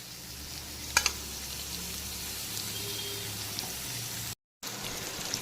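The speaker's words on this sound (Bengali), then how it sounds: "এখন কিন্তু পেঁয়াজ কুচিটা খুব সুন্দর করে ভেজে নিয়েছি" Chopped onions fry in a pan over low to medium heat, with a steady close sizzle and hiss running throughout, a couple of brief utensil clinks near the start and a short dropout near the end.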